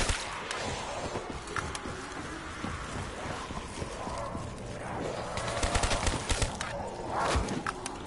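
Rapid-fire gunfire rattles through the Kino der Toten zombies map in Call of Duty, a crackling stream of shots over a hissy, rain-like background with sharper bursts toward the end.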